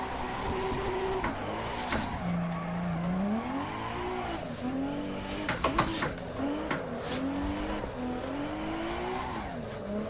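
Race car engine in the Assetto Corsa EVO video game, revving loudly and rising and falling through gears, with tire squeal and skids mixed in continuously throughout.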